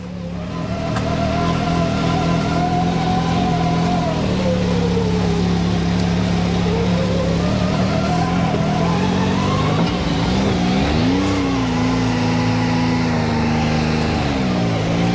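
A Can-Am Maverick X3 side-by-side climbs through a ravine, its engine droning steadily and loudly up close, with the pitch rising and falling as the throttle changes on the off-road ascent.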